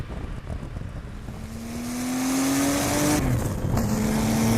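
A modified Porsche 964 Turbo pulls hard under full throttle, its engine note rising steadily and growing louder before a brief shift, then climbing again with strong wind rush, heard from inside the car.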